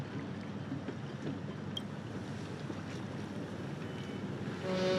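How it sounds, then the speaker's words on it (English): Boat arriving on water in Honkai Star Rail, a steady wash of waves and wind-like rushing, moderately loud and continuous, swelling slightly at the end. "The boat has arrived."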